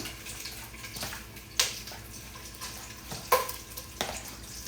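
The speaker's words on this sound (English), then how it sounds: "get me a spoon, stir it all up, mix them flavors together" A spoon stirs food with sour cream in a pot, giving soft scraping and sloshing strokes with a few sharper clinks against the side, close and fairly quiet, with no talk.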